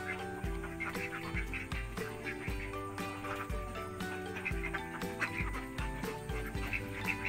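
Laying ducks on a duck farm quack faintly and continuously amid a dense background din of many birds, with no clear talk over it.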